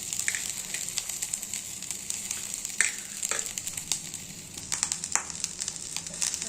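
Rice stirred into hot ghee in a pan for vegetarian fried rice, a steady bright sizzle crackling with frequent scraping and clacking strokes of the spoon, close and alone.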